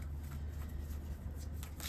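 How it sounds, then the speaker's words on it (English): A deck of Shadowscapes Tarot cards is shuffled by hand in a steady, continuous papery riffle and rustle, close and fairly quiet, with no talking. "so we are going to shuffle"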